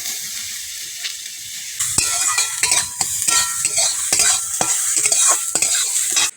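Chopped potatoes dropped into hot oil with black cumin for a pumpkin leaf and jute greens fry, a loud close sizzle that jumps up suddenly, broken by repeated sharp scrapes of stirring.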